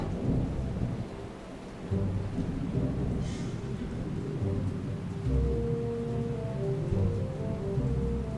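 Steady rain hisses throughout while low thunder rumbles and rolls underneath, a continuous storm with no voices, at the Ark Encounter in Williamstown, Kentucky.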